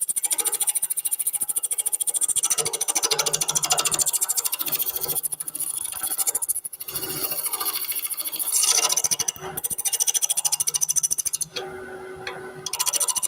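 Wood lathe turning a spinning blank with a negative rake chisel throwing curls, a continuous close scraping and hissing cut that rises and falls, with brief pauses and no voices.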